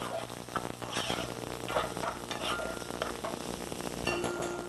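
Onions sizzling in a pan with cumin powder and coriander for stuffed okra in yogurt sauce, a continuous close crackling fry with small bursts of popping and stirring scrapes, and no talk over it.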